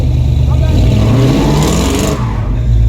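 A car engine revs hard and loud, rising and roaring steadily for about three seconds during a tire-smoking burnout, with talk over it.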